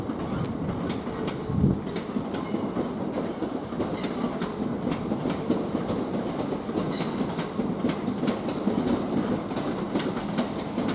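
A Class 466 Networker train rolls through Ashford International station with a steady rumble and rhythmic clickety-clack of wheels over rail joints, moderately distant, with no talking.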